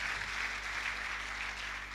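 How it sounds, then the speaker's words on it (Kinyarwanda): An audience at a church service applauds together, a steady dense wash of clapping that runs the whole moment without a break. "Let's applaud and thank God."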